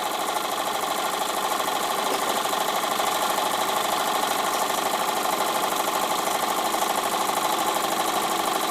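A Wilesco D455 model steam engine, freshly repaired and running on compressed air, chatters with a fast, steady mechanical rhythm, close and constant throughout with no pauses.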